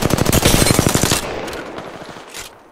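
Rapid automatic gunfire in a video game, a loud dense burst of fast repeated shots lasting about a second, then fading into a quieter rumbling tail with a faint later shot.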